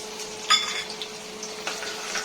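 Mustard seeds, cumin and crushed garlic sizzle in hot oil for a tempering, a soft steady hiss broken by a sharp pop or clink near the start.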